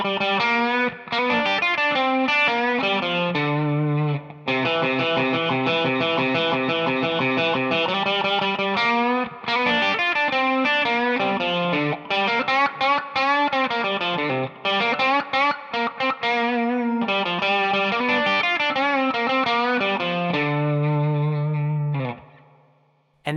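Distorted electric guitar plays a blues solo melody, with bent notes and quick phrases running continuously and loud for over twenty seconds with only brief pauses, and no voices.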